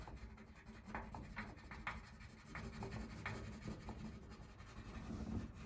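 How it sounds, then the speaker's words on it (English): Colored pencil scratching steadily across paper while coloring in a drawing of eyes, close and faint, a soft continuous rasp with short repeated strokes. "Now I use the colored pencil to color this in."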